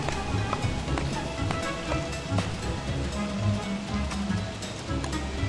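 Steady rain in the video game Don't Starve: Reign of Giants, a dense, continuous hiss of falling drops with scattered pattering taps, even and unbroken throughout.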